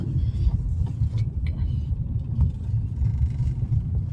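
A car on an Indian highway between Maharashtra and Madhya Pradesh, heard as steady low road rumble and engine drone throughout, with faint voices in the background.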